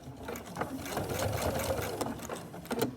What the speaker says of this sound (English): I'll sew to that 45-degree edge, drop my needle in that place that I've marked, and then I'm going to sew off to the corner